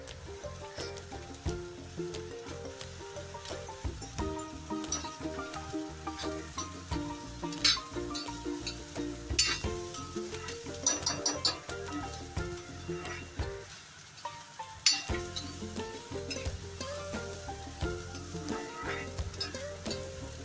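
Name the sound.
onion frying in a pan for bitter gourd curry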